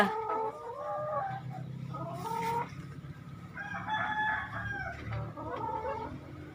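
Chickens cluck in several separate runs of calls with short pauses between them, close by and fairly loud, with no talking.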